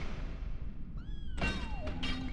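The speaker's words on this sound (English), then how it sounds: "Can you see my kitten? I hear her down there meowing." A kitten meows in a Harry Potter video game: a short rising mew, then a thump and a longer, sliding meow, fairly close over steady low background hum.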